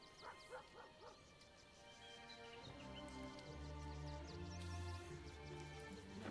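In Baldur's Gate 3, a dog whines and yips softly in quick repeated calls, then the sound gives way to a sustained, swelling musical score with no speech.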